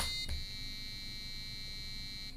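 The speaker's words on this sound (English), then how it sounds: "Gives us a long buzzer to let us know we lost the game." A Pico W memory game sounds a long, steady electronic buzzer to signal a lost game. The flat tone holds unbroken at an even level for a couple of seconds.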